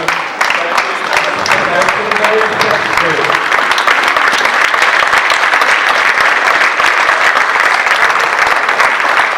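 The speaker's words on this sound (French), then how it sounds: "je vais vous demander tous, d'applaudir très très fort" A crowd at a student fashion show applauds loudly and continuously, a thick wash of many hands clapping at close range, while a voice speaks over the opening moments.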